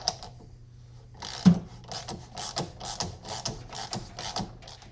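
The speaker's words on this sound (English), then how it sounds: "Just use a ratchet with a 16mm socket to turn this tap." Ratchet with a 16mm socket turning a thread tap, a run of quick close ratcheting clicks in short rhythmic bursts, fairly faint and free of speech.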